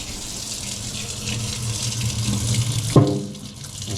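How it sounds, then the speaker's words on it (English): Cold water runs from a kitchen tap over cooked potatoes in a sink, a steady close gush with a brief splashy burst near the end, no talking. "some running cold water."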